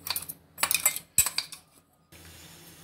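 Coarse powder ground from sago pearls is tipped into a small bowl in a home kitchen, giving a few close clinks of a utensil against the dish followed by light scraping and a quieter tail.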